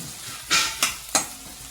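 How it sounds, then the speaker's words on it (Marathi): A spoon stirs chopped tomato into rava upma in a hot pan, giving three short scraping swishes over a soft background sizzle. "आता याच्यात आपण हे व्यवस्थित मिक्स झाला पाहिजे"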